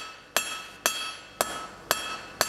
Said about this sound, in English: So I'm going to be hammering up here and work down towards my point.